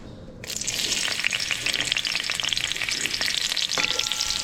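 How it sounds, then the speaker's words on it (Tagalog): Garlic sizzles in hot oil in a pan, a loud, continuous crackle with scattered sharp pops and no voices. "Gigisa po natin"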